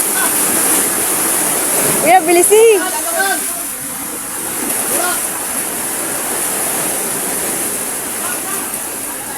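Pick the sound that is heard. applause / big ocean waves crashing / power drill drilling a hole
big ocean waves crashing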